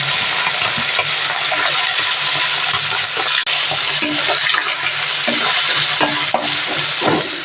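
Tangra fish fry loudly in hot oil with turmeric, a dense, continuous close sizzle with occasional crackles and stirring clinks.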